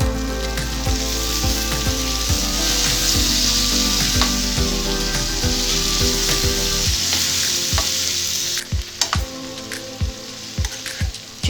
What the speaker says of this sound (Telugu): ఉల్లిపాయ ముక్కలు ఫ్రై అయిన తర్వాత చిక్కుడుకాయ వేసుకోవాలి.